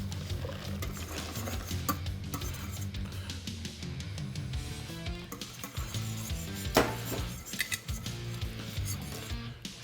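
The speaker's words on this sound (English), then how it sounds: "Now we can go ahead and put that back into the saucepan." Miso ice cream custard mixture goes back into a saucepan on the stove, with uneven clinks, scrapes and knocks of a utensil against the pot over several seconds and no speech.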